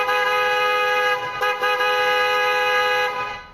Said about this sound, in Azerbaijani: Bu isə Mercedes siqnalı.